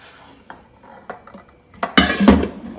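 Metal frying pans knock and clatter together up close in a kitchen, a few scattered clinks first, then a louder burst of rattling as they're shifted.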